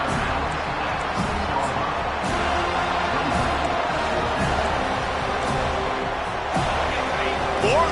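Stadium crowd at a college football game, a steady loud wash of thousands of voices roaring on fourth down, continuous from start to end, with a commentator talking over it.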